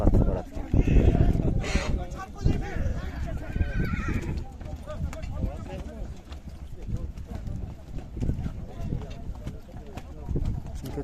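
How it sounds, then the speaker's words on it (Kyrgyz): Horses galloping and whinnying during an ulak (buzkashi-style goat-dragging) game in a Kyrgyz village, with hoof clatter and neighs under continuous loud shouting and commentary from a crowd. "минген ат жакшы ат экен"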